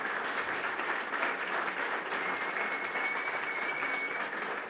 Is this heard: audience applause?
yes